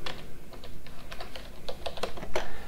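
Keys clatter on a computer keyboard while code is typed into the LibreOffice Calc macro editor, a quick irregular run of close, crisp taps with no talking.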